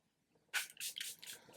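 After a brief quiet moment, several short hissing spritzes from a Charlotte Tilbury setting spray bottle follow in quick succession, close and crisp.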